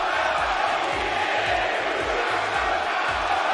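A large wrestling crowd in a Chicago arena chants in a loud, rhythmic counter chant, with regular repeated beats of many voices filling the space.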